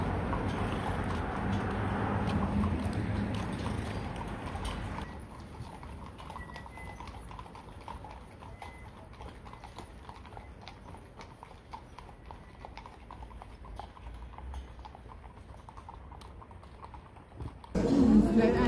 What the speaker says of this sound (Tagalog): sandali, antayin ko yung mga kabayo